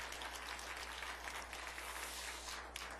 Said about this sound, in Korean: 축복과 격려의 박수 한번 해주시기 바랍니다